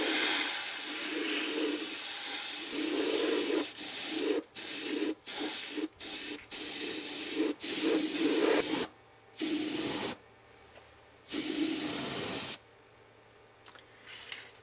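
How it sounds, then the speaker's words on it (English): Airbrush spraying coloured primer onto original car paint during a chassis refinish, a steady broadband hiss in repeated bursts of varying length separated by short pauses, close and loud with no talk. "Here we've got the primer going onto the original paint."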